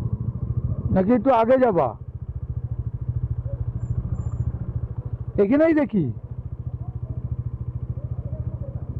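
A motorcycle engine idles steadily nearby during a mountain bike trip in Arunachal Pradesh, its even low putter running throughout while people briefly talk over it.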